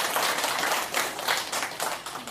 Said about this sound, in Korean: 성가대에서 박수 한번 더 칩시다.